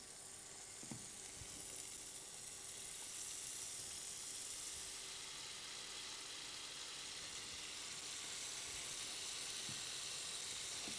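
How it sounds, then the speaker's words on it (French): Frozen hake steaks sear in hot curry-flavoured oil, giving a steady, even sizzle that holds at the same level throughout, with a couple of faint clinks of utensils near the start. "nous allons donc saisir les darnes, toujours surgelées, dans notre huile parfumée au curry"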